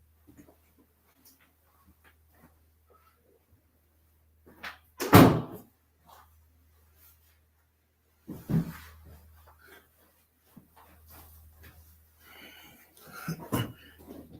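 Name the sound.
door closing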